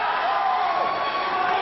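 A crowd at an NWA World Heavyweight Title wrestling match reacts with loud, sustained shouting and jeering that fills the whole moment.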